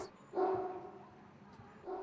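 A single dog barks twice at moderate distance, each bark short and tonal against a hushed outdoor background with no talking.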